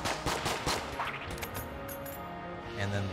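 Rapid gunfire from a video game weapon crackles in a quick burst of sharp shots, then tapers off into softer clanks and game noise.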